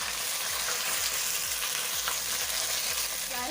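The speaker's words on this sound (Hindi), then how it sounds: "अब हम इसमें चिकन डाल देंगे और फ्राई कर लेंगे अच्छी तरह।" Chicken pieces frying in a pan of hot oil for a Lahori murgh cholay, a continuous dense sizzle with steady crackle and occasional stirring scrapes, close and even throughout.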